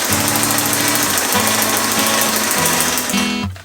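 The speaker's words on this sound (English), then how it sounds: "I'm going to sew it on with a zigzag stitch" Up close, a sewing machine runs a zigzag stitch through Tyvek fabric, a loud continuous mechanical whir with a rhythmic pulsing undertone that slows and cuts off near the end.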